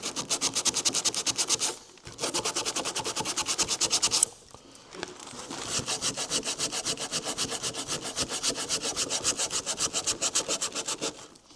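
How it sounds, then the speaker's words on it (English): A plastic headlight is being rubbed down by hand, giving a steady back-and-forth scraping rhythm with a short pause partway through, close and fairly loud with no talk. "what you could do is get a wee rub down"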